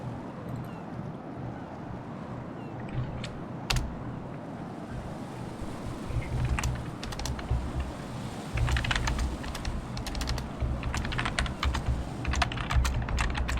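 Close keyboard typing in bursts of sharp clicks over a steady low background rumble, sparse at first and growing busier and louder in the second half.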